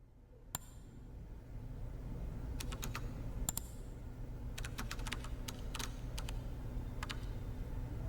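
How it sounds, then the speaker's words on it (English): Sharp, crisp clicks come in irregular bursts, some in quick pairs, over a quiet steady background hum. "That is a crisp mouse clicking sound effect"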